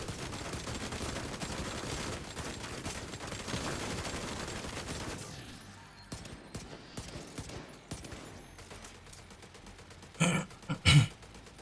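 Enemy gunfire strikes a deflector shield in the Division 2 video game, a dense continuous barrage of rapid shots that thins after the midpoint into scattered bursts, with two louder impacts near the end.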